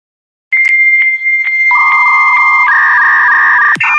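A dial-up modem connecting to the internet: electronic dialing tones followed by a rising series of harsh screeching and warbling handshake noises, loud and close, ending abruptly; no voices.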